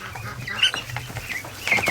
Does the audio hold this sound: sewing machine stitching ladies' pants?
no